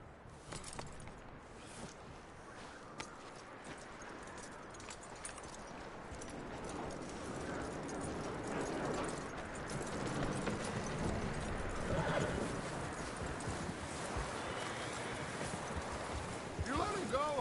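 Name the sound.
horse hooves and whinny, from video game Red Dead Redemption 2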